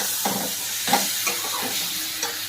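Tomato going into a pan of sizzling ground spices and salt while cooking dhoka dalna, a continuous frying hiss with a few soft stirring bumps and sputters.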